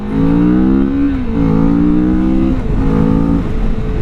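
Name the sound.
Kawasaki Vulcan S 650 motorcycle engine accelerating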